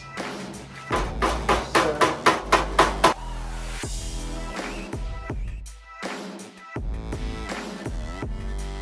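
A rapid series of sharp soft-hammer blows rings on sheet metal, then slower, spaced strikes with ringing decay between them.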